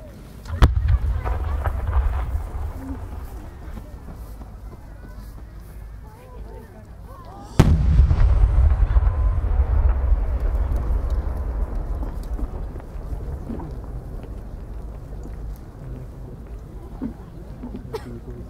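A Japanese firework shell at a competition in Aizu launches with a sharp crack, then bursts in a deep, rolling boom that fades slowly, with another distant thump earlier, under a low outdoor crowd murmur.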